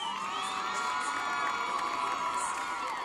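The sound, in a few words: crowd applause and cheering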